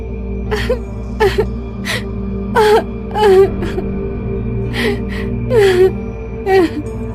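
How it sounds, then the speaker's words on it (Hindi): A girl cries and wails in repeated drawn-out bursts, roughly eight sobbing cries that rise and fall over a low steady hum. "उसे किसी लड़की के रोने की आवाज सुनाई देने लगती है।"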